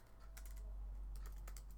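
Computer keyboard typing in two quick bursts of clicky keystrokes separated by a pause, faint and close over a low background hum, no talking.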